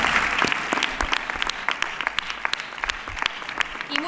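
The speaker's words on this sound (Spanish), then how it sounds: "Fuerte aplauso para ellos." A gala crowd at a municipal sports awards night applauds prize recipients, a busy, uneven patter of clapping with some louder nearby hands, and a few faint voices underneath.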